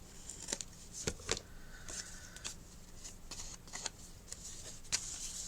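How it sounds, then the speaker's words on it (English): Scissors snip a small notch out of paper for a chunky mini album, giving a few soft, close cuts and rustles against a quiet room. "I'll just trim a little notch back out."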